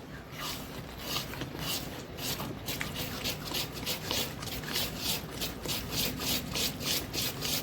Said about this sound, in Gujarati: અને હવે આપણે હાંડવાને એક જ ડાયરેક્શનમાં બરોબર હલાવી લઈશું.